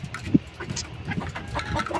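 A micro bantam pullet gives a few soft, short clucks close by, the loudest near the start, over faint background rustle.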